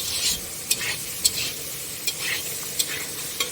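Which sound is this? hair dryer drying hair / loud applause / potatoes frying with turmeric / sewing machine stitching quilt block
potatoes frying with turmeric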